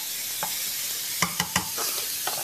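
Sweet and sour seitan sizzles steadily in a hot pan, a dense bright frying hiss with a few sharp clicks of stirring near the middle, close and alone.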